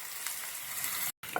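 Mustard seeds spluttering in hot coconut oil for a Kerala dal and raw mango curry, a continuous bright crackling sizzle, close and steady, with a brief dropout near the end.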